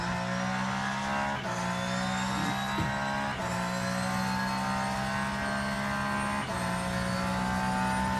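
Race car engine in the Le Mans Ultimate video game, revving hard and steady with brief dips at each gear change, loud and continuous throughout with no voices.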